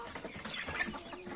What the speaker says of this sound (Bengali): বাবার দিকে দেখো মুরগিরে বাতুলাটি খাওয়াইতেছে দাঁড়ায় দাঁড়ায়